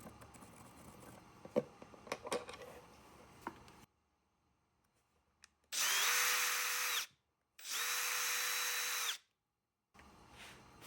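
A power drill drives a screw into a wooden CNC-cut gift box latch in two sustained whirring bursts, separated by a short pause, after some light tapping and handling sounds.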